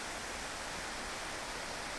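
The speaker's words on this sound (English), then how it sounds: "So now this is where waterfall originates." Keila-Joa waterfall in Estonia, heard at its source in freezing winter cold, gives a steady, dense broadband rush of falling water, close and continuous for two seconds with no voices.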